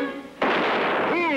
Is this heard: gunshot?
yes